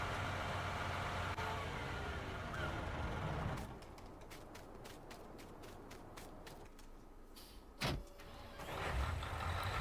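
A 400-horsepower Fendt tractor pulls a cultivator across a field in Farming Simulator 19, its engine a steady, loud drone that drops to a quieter hum partway through, with a brief sharp click near the end.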